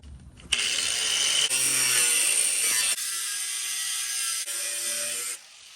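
A hand ratchet loosens 14 mm bolts on a Volvo 240, giving a close, steady buzzing clicking in several runs separated by short pauses.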